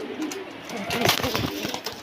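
A female Rampuri pigeon coos softly in a brief, low burst under light background noise and some faint voices.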